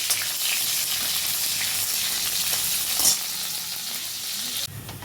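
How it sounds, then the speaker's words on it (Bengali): Chopped onion sizzles in a hot frying pan, a loud, steady crackling hiss close by, with a brief stirring swell partway through and no talking. "এরপরে পেঁয়াজ কুচি দিয়ে দিলাম।"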